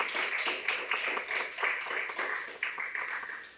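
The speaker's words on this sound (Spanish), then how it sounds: "pido un fuerte aplauso" Audience applause at an architecture talk, a quiet run of many hands clapping with a steady patter that fades slightly over a few seconds.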